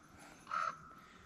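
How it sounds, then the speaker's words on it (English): A single crow gives one clear caw, fairly distant and faint, over a quiet, still morning at a forested campsite near Post Canyon on Mount Hood, Oregon. "Hear the crows."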